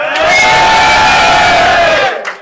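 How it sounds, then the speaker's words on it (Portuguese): A large crowd at a rap battle roars and cheers loudly in one sustained burst of shouting that fades out at the end. "Barulho pro Matheus, mano!"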